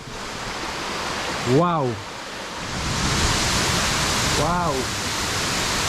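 Argyle Falls in Tobago sends up a broad, steady rush of falling water, loud and continuous, while a man twice exclaims over it.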